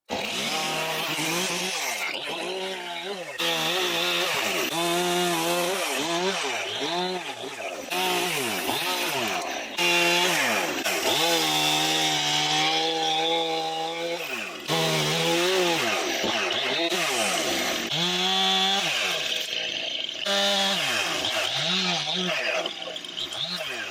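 Chainsaw cuts up a fallen tree by a creek, its engine rising and falling in repeated revving bursts as it bites into the wood, fairly near and continuous.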